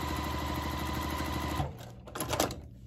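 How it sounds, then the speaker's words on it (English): A Juki 2000Qi sewing machine stitches fabric with a fast, steady mechanical hum and rhythmic needle chatter, then stops abruptly, followed by a few quieter clicks and clunks. "how we can go from sewing to backspace to sewing to cutting our thread"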